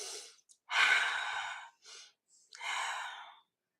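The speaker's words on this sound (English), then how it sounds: "You can hear your breathing" A person breathes audibly close up, with a few short breaths and then two long sighing exhales, separated by brief silences.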